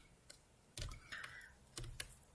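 Quiet keystrokes on a computer keyboard, a handful of light taps and clicks in a short irregular burst, close and faint with no talking.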